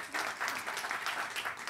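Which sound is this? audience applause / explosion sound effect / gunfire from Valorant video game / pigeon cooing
audience applause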